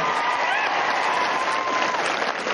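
Audience applause in an assembly hall at a political speech, a steady dense wash of clapping that holds at even loudness throughout, with faint crowd murmur beneath.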